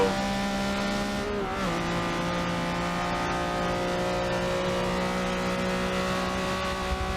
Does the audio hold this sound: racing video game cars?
yes